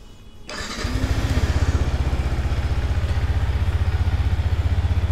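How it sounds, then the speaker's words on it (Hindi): A Yamaha R15 V4 150cc motorcycle engine cranks and catches, then settles into a loud, steady rhythmic idle thumping close by. "पहले कर लेते हैं बाइक को स्टार्ट फिर बात करेंगे"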